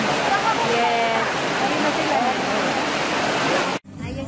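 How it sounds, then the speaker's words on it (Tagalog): Steady, dense roar of heavy rain pouring down close by at an amusement park, continuous and loud, cutting off abruptly near the end. "Sobrang lakas po ng ulan."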